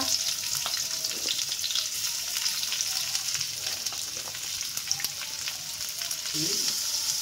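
Onions frying in a pan with whole spices such as bay leaf and cinnamon, a steady soft sizzle with occasional scraping stir strokes, fairly quiet and close, no talking.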